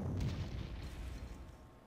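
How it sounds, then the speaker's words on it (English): Artillery fire from the Panzer Corps wargame: a dense, rumbling low boom that fills the whole span, loudest at the start and slowly fading, with no talk. "their problem is mainly that our artillery now is in range"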